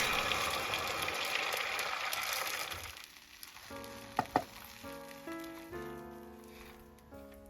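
Dashi tamagoyaki omelette frying in a pan, a bright steady sizzle that fades out midway, followed by a couple of light clicks and quiet tonal sounds.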